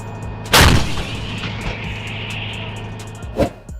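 An M109A6 Paladin self-propelled 155mm howitzer firing, one heavy close boom followed by a rumbling tail, with a second sharper report near the end over a steady low engine hum.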